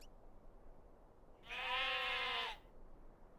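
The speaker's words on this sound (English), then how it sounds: "now I'm upsetting the sheep" Sheep bleating once in the video game Swest, a single drawn-out wavering bleat lasting about a second, clear and alone against a quiet background.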